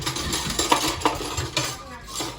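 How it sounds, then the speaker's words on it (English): Chopped vegetables, including leeks, tumble into a bowl with soft, close knocks and light clatter against the dish, and nobody talks. "I'm now adding all the ingredients to the bowl"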